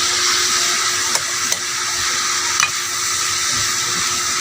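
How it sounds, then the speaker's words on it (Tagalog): String beans sauté in a hot pan for adobong sitaw, a steady close sizzle with a few sharp clicks of a utensil stirring against the pan. "Sangkutsa lang natin ng konti yung sitaw."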